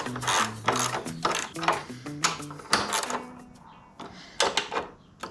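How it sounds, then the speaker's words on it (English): A ratchet snugs up 10 mm bolts on a Lowrider ST fairing for a 2016 Harley Street Bob, giving close, rapid clicking bursts in short repeated strokes with small pauses between bolts. "Just gonna kind of snug them up, all 4 of them, then we'll go back and kind of crank them down."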